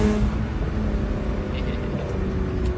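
A car engine hums steadily from inside the cabin, a continuous low drone with faint tonal harmonics and no clear revving, close and even throughout.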